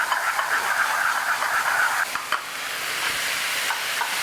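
Prawns grilling in a pan with a mixed sauce added, giving a steady close hiss of sizzling and bubbling with light stirring scrapes, easing slightly toward the end.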